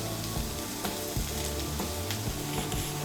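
Egg and poppy seed chorchuri sizzling in a pan as raw mustard oil is stirred through, a continuous loud crackle with repeated spoon scrapes and knocks.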